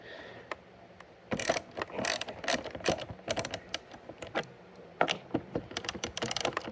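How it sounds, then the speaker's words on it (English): A ratchet wrench backs out two bolts on the saddle bag lid of an Indian Challenger motorcycle, producing close, rapid clicking bursts in irregular runs with short pauses between them. No one speaks. "just take these two bolts out right here"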